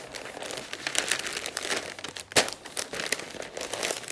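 Wrapping being folded around BBQ meat makes close, irregular crinkling and rustling, with one sharper crackle midway.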